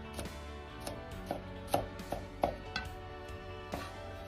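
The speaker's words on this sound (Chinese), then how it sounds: "再拍破切碎就可以，炒的时候更好出蒜香味" Garlic cloves being smashed and chopped with a kitchen knife on a cutting board, giving about a dozen sharp, close knocks at an irregular pace with brief pauses between strikes.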